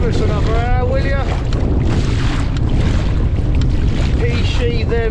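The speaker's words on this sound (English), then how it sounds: "Oh, the wind's picking up." Strong wind buffets the microphone on open water while kayak fishing off Skye, a loud, continuous roar with splashing water, and someone speaks over it at moments.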